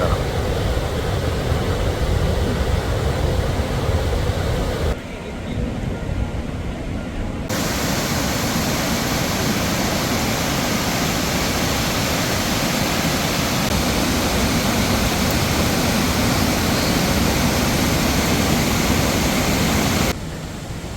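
Water roars through the four open shutters of Mangalam Dam in Palakkad, a dense, continuous rushing torrent close by, with a brief dip in intensity partway through.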